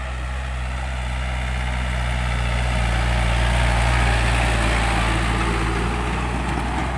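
A new Yanmar EF514T tractor engine tills a dry, dusty field in second gear, giving a steady, loud low diesel drone with a constant mechanical hum that swells slightly midway.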